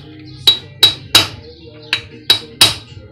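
A hammer drives a metal screwdriver against a metal sleeve during a CRF450X motorcycle repair, giving six sharp ringing metallic clanks in two groups of three, loud and close, with a faint background hum between strikes.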